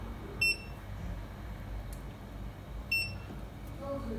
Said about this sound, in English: So it will buzz.